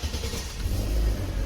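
A 1997 Mercedes-Benz E320 engine fires up with the ignition key and settles into a steady, close, low rumbling idle that holds evenly throughout.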